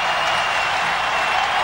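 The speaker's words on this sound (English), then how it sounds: "And this crowd has just gone berserk." A hockey arena crowd celebrates a victory with dense, loud applause and cheering, a steady roar of clapping filling the whole space.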